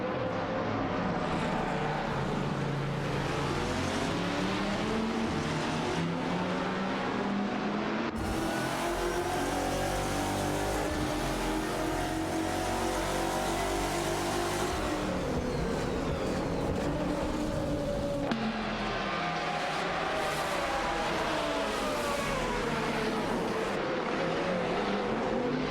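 Race cars battling on a track in an AI racing game: loud, continuous engine roar from several cars, rising and falling in pitch as they shift and pass, with abrupt changes in the mix.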